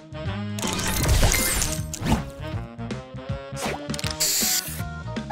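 Spray booster effect from the Match Masters mobile puzzle game, a loud burst of hissing spray with crashing hits and chiming tones over busy game music, followed by bright sparkly flourishes.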